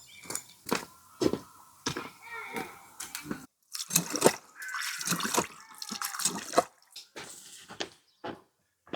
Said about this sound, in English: we need to wash it with water and remove any other weeds mixed in